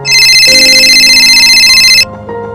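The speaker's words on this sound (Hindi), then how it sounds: "फोन क्यों नहीं उठा रहे हो? फोन उठाओ।" A telephone rings with a loud, steady electronic tone held for about two seconds before cutting off, leaving a quieter background hum.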